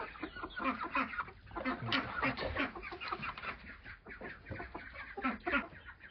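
Chickens clucking and fussing up close, a busy flock with overlapping calls and a rooster among them, no clear single crow standing out.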